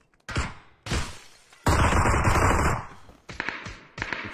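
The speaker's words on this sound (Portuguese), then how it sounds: "Quer ver o barulho da Glock?" Glock pistol shots in a video game: a handful of loud, sharp bursts in close succession, one longer rattling volley in the middle, then a few more quick cracks near the end.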